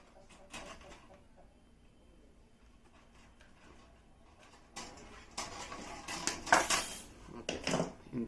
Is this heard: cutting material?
yes